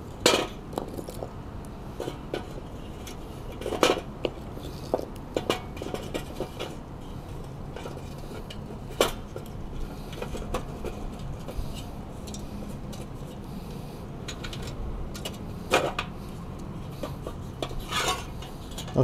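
Pieces of firewood are pushed and packed into a small camping wood stove, with irregular knocks, scrapes and rubbing clatters against metal, fairly quiet and close.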